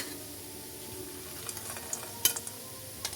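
Almonds and cashews stirred into dates frying in a pan, a soft steady sizzle with scattered scraping clicks of a spoon growing more frequent toward the end, fairly quiet and close.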